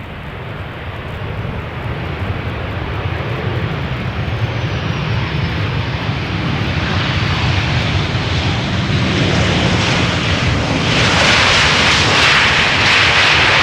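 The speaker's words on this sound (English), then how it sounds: "Boeing 737-700 arriving from Copenhagen." Boeing 737-700 airliner, 24 years old, arriving at Amsterdam Schiphol from Copenhagen: a loud, steady jet engine roar that swells gradually and peaks near the end, with no voices.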